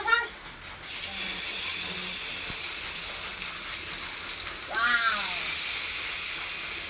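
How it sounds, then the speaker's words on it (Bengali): Koi fish fry in hot oil with a loud, steady hiss and sizzle that runs throughout, heard close up. It swells again near the end, and brief voices break in over the frying. "আর এখানে কই মাছ এখন ফ্রাই হবে"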